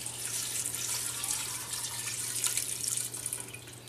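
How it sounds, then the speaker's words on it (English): About two cups of water poured into a pot of Japanese pork curry, a steady bright splashing stream lasting several seconds over a low hum, with no talking. "And now we have a bunch more water."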